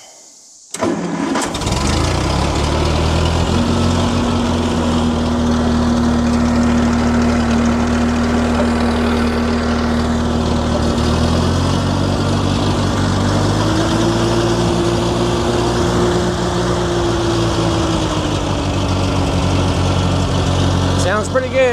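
A Massey Ferguson 50 tractor engine cranks and catches, then settles into a steady, loud, close idle that shifts slightly in pitch partway through and runs continuously to the end.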